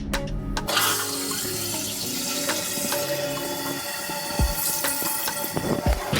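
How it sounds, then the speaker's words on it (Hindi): Water keeps running in a toilet after the flush button is pressed and spills out, a steady hiss and gush close by with a few faint clicks and knocks, no talking. "पानी बह रहा है, बाहर निकल रहा है।"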